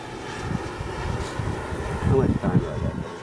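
A 2M Rebel radio-controlled model airplane flies overhead, its engine a low droning rumble mixed with gusty wind buffeting the microphone outdoors.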